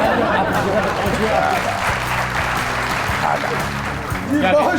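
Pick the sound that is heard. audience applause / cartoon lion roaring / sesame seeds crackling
audience applause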